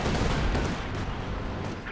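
Sustained artillery barrage and gunfire in Company of Heroes 2, dense and continuous with heavy low rumbling impacts and crackling shots throughout, loud and alone.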